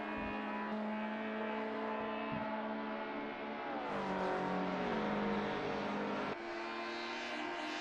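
Engines of TCR touring cars, including a Honda, drone in a racing video game with sustained tonal whines whose pitch sweeps up and down through gear changes, loud and continuous, with a sudden shift near the end.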